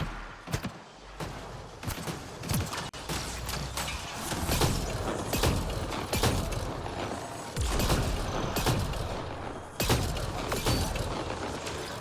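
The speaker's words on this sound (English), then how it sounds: "This thing is an LMG." A light machine gun fires in the sci-fi game Mass Effect Andromeda, in repeated sharp bursts over a constant rumbling mechanical background that runs the whole time.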